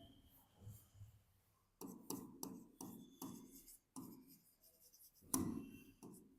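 A pen writes entries in an accounts ledger with repeated short scratching strokes in bursts, close and fairly quiet, with brief pauses between runs of writing.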